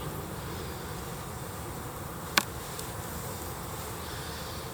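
Honey bees hum in a low, steady drone around hive frames during cool-weather hive handling, with one sharp click partway through.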